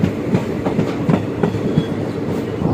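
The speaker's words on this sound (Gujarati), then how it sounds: "આપણી ટ્રેન પાસે ખાસ આવી છે." A train rolls steadily along the rails, its wheels clacking in a repeating rhythm over a continuous low rumble, close and fairly loud.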